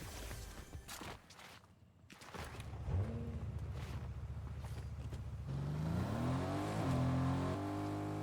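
An engine revs up in the Fortnite video game, climbing in pitch over the second half. Earlier there are footstep-like thumps and game noise.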